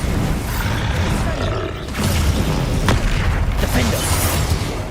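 Bombarda spell blasts from the Hogwarts Legacy video game: a steady roar of booming explosions and crackling bursts, loud and continuous, with a sharp impact near the middle and a shouting voice mixed in.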